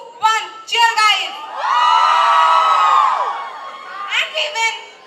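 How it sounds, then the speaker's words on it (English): Young people cheering and whooping at a youth festival, loud close shouts in short bursts, then a long sustained group yell rising and falling, followed by a few more whoops. "Come on, 3, 2, 1, cheer guys!"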